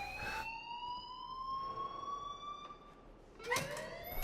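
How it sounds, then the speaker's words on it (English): A steady electronic alarm in a video game wails in long gliding tones, bright and continuous, with a sharper burst near the end and no talking. "please turn off that alarm since that's your job"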